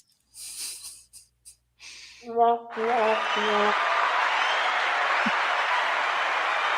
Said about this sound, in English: Let's get a round of applause for Shawnee Grows